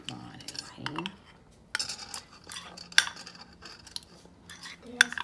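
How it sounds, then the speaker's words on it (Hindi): A spoon stirs honey into a glass, giving faint, scattered clinks and light scraping against the glass with quiet pauses between strokes. "अब मैं इसको अच्छे तरीके से मिक्स करूंगी।"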